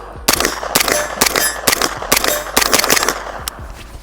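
A suppressed Sig MPX with a 4.5-inch barrel fires about nine sharp, clanging shots in an irregular string, loud and close, each one ringing briefly before the next.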